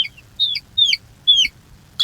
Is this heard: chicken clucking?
yes